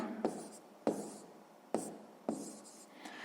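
Pen writing on paper during a sixth-grade maths exercise: four or five short, scratchy strokes close to the microphone, each a quick scrape that tails off, with quiet pauses between and no talking.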